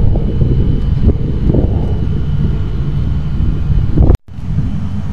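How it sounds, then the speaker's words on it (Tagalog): Strong wind buffets the microphone in a continuous low roar, with gusty surges and a brief dropout near the end. "Malakas yung hangin dito sa loob, sa likod."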